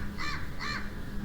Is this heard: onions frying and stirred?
no